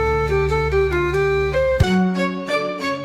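An orchestral keys sample from a pop session sample pack, auditioned in a beat-making session: several sustained tonal notes shifting in pitch, then a sharp transient and a new phrase of repeated bright chords, played alone.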